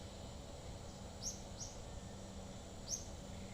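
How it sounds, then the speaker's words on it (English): A bird outside gives a few faint, thin chirps spaced apart over a quiet, steady background hum. "can you hear the bird? That bird is the actual bird."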